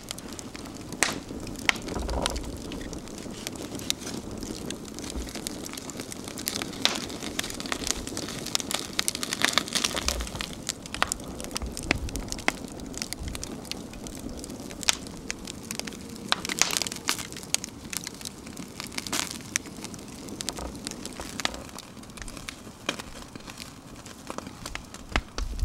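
A chunk of raw meat tossed onto a roaring open wood fire produces a continuous close crackle and hiss, scattered with sharp pops and snaps, with no speech.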